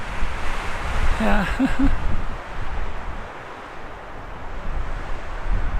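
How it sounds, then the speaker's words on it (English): Strong, steady wind buffets an exposed mountain viewpoint in Mack's Canyon, a broad continuous roar of microphone-battering gusts that swells and eases, with a brief spoken word early on. "The wind has really picked up here in the last few minutes."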